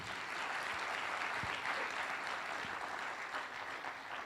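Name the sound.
audience applause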